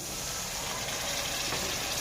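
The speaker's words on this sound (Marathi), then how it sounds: "त्यानंतर टाकून टाकणे थोडंसं पाणी" Water streams steadily into a pot with a continuous, splashing pour that stays at an even level throughout.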